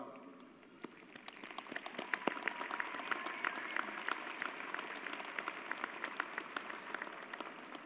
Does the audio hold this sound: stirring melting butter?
no